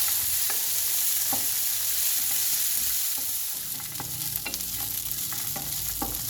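Almonds frying golden in a pan of hot oil for Kabuli pulao, a dense continuous sizzle with scattered crackles and the occasional stirring scrape, steady and close.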